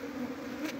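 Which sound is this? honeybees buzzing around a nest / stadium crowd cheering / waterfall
honeybees buzzing around a nest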